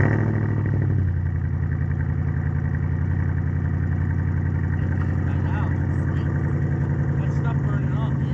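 Car engine fitted with a Flowmaster Outlaw 3-inch exhaust cranks and fires within the first second, then settles into a loud, steady, deep rumbling idle that carries on throughout, close to the tailpipes.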